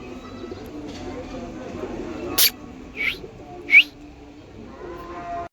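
A female pigeon returning after a night away gives a few short coos and chirps, three distinct calls in the middle over a low steady background hum.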